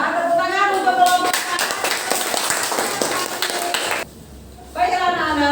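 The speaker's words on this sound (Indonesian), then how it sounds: "Tepuk tangan untuk kelompok." A school class applauds a student group after their presentation, bright crowded clapping for about three seconds between stretches of a teacher speaking, then a short quiet gap before the talk resumes.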